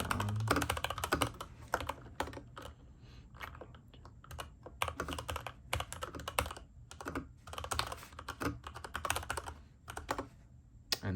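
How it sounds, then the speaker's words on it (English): Rapid, uneven keystrokes on a mechanical keyboard with Cherry red switches, a steady near clatter of clicks running throughout with no talking. "you guys can see I'm trying to start randomly typing"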